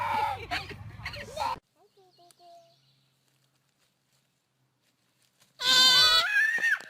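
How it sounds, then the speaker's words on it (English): A young lamb bleats loudly and close at the start, and again in a second, longer bleat after a quiet gap with faint sounds in between. "What noise does a lamb make?"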